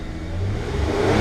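The V6 engine of a 1999 Lexus ES300 revs up steadily after an ignition coil fault was reset. A loud, close rising engine note climbs over a little more than a second, with no misfire heard.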